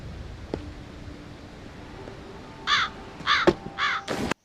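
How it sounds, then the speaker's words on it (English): Crows in a video game give a quick series of four or five harsh caws close by, over a quiet background with a few faint knocks and tones, ending in an abrupt cut. "there was a big noise and crows started going everywhere"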